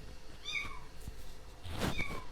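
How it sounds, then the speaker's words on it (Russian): A kitten meows twice, thin high cries about a second apart, close by against soft background noise. "То петухи вас приветствовали, то теперь котенок."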